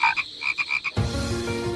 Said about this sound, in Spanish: sobre cuyas aguas cantaban unas ranas